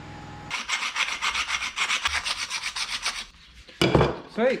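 Metal filing rasps across the sharp inside corner of a window regulator part on a 1951 Chevy custom, a steady rhythmic run of strokes for about three seconds, then a pause and a few sharper scrapes, close and fairly loud.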